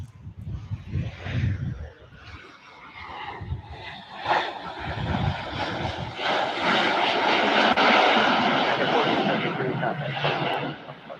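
A United Boeing 737-900 arriving from Houston passes near the runway at Columbus John Glenn International Airport, its jet engine roar swelling from faint to loud and sustained. Someone talks over the start.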